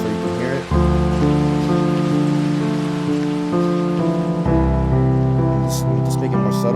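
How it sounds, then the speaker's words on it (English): Simulated rainfall from the Tapeboy lofi plugin, turned up louder so a steady hiss of drops sits under a looping lofi music bed, with a brief dip near the start and no voices. "Here's the rain sound."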